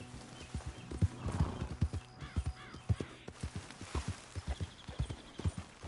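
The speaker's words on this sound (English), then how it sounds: "My horse will let me know." A horse in the Red Dead video game clip-clops steadily through the clip, the hoofbeats close and rhythmic, with a whinny partway through.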